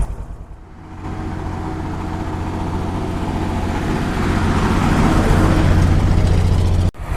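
Engine of a 1946 Dodge WD20 milk dairy truck running with a steady, rough low rumble that slowly builds, then cuts out abruptly near the end when it is shut off.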